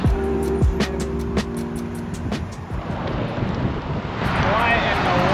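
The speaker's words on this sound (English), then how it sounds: "We're just on the side of a highway with a 70 mile an hour speed limit." Traffic on a 70 mph highway heard from the roadside during a bike ride, with vehicles whooshing past amid heavy wind buffeting and a voice talking.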